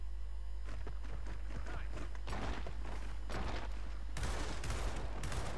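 Gunfire in a Gears of War 4 Warzone multiplayer match, with scattered shots and short bursts at varying distances, growing into a louder burst of fire near the end.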